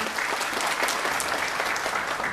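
Audience at a business seminar in Dubai clapping hard and steadily, a dense close burst of applause with no one talking.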